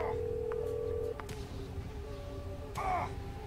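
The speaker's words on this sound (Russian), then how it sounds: "Телефон!" Telephone dialing tones from a Roblox video game: a steady tone, then several short beeps over a low background hum, with a brief harsh squawk near the end.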